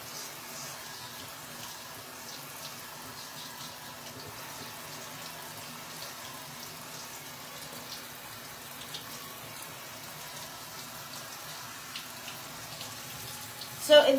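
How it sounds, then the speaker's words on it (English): Steady running water rinses ink out of a homemade stencil screen, a continuous close hiss and splash that holds level throughout with a brief louder burst at the end. "So it's basically washing out the areas where the ink was."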